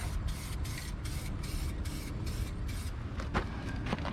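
Spray paint hisses in rapid repeated short bursts while painting parts of a 2006 Ford F350 under rebuild, close and fairly loud, a steady hiss carrying between the bursts.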